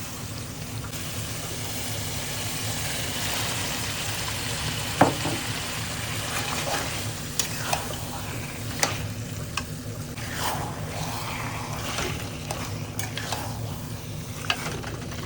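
A spatula stirring taro greens cooked with broken hilsa fish heads in a pan, giving a steady close sizzle with occasional scraping knocks and clacks spread irregularly through the mix, with no voices.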